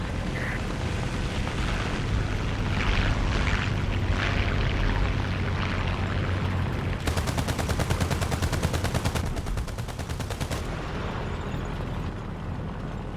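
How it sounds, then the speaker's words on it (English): A hull-mounted 8mm machine gun on a tank in War Thunder rattles out two long, fast, evenly spaced bursts in the second half, loud over rumbling engine noise and distant battle sounds. "I'll shoot at you in my little hull-mounted 8mm."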